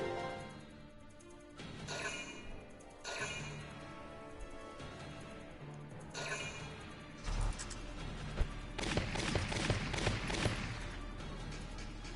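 Gunfire in the strategy game Valkyria Chronicles, with sparse scattered shots and impacts early on that build into a denser, louder burst of battle noise in the second half.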